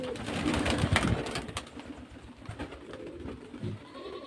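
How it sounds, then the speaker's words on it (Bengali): Pigeons of domestic and foreign breeds at a pigeon sale in Beldanga, Murshidabad, coo faintly through a busy, noisy background, with louder murmurs early and brief soft calls later. "এই যে পায়রার কোয়ালিটি দেখুন, খুব ভালো ভালো লাইনে পায়রা আছে।"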